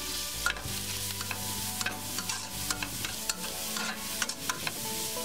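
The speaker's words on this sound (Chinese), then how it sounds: "倒入木耳和香菇炒出香味" Scallions, wood ear mushrooms and shiitake stir-frying in hot oil in a wok, a steady close sizzle broken by repeated clacks and scrapes of a spatula, with a low hum underneath and no talk.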